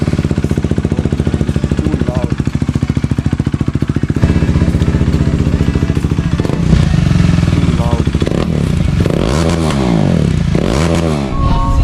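A KTM Duke 390 with its exhaust muffler removed idles loud and close with a hard, rapid staccato pulse, then revs up several times in rising and falling sweeps.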